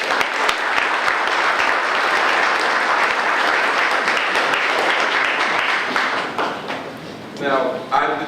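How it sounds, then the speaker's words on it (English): Sustained audience applause at a summer crime plan event, a thick, steady roar of clapping from a crowd holding for several seconds before tapering, with speech emerging near the end. "I'd like to give them a round of applause"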